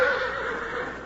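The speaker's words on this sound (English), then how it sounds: "A herd of wild horses blazing their way across the plains of the west." A wild horse whinnies loudly and close, a single sustained, wavering neigh from a herd racing across western plains, with no hoofbeats standing out beneath it.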